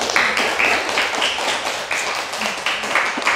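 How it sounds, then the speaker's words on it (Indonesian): Classroom applause for a classmate, a small group clapping in quick uneven rhythm for several seconds, close and moderately loud, with faint voices underneath. "Beri aplaus kepada teman kita yang jatuh"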